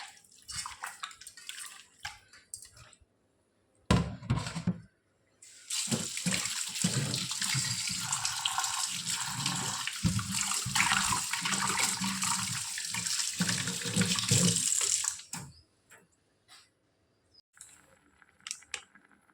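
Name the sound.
washing chicken under running tap water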